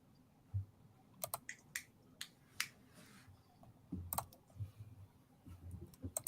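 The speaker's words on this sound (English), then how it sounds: "I was just typing it fast." Quick bursts of typing on a computer keyboard click irregularly in short clusters, faint and close, with no voices present.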